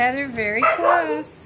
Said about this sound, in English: Sorry about my dog. She gets so excited when Daddy gets up because she thinks it's time to go out.